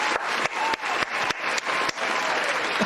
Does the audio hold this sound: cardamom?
no